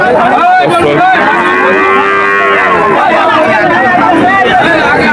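Cattle and calves moo loudly at a busy rural calf market, one long drawn-out low call rising over a constant crowd babble and nearby talk.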